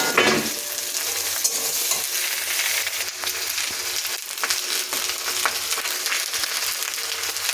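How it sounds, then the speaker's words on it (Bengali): Eggplant frying with garlic in a pan gives a steady, loud sizzle close up, with scraping and stirring sounds running through it and no voices. "রসুনগুলো ভাজা হয়ে গেছে এবার দিয়ে দেবো বেগুন"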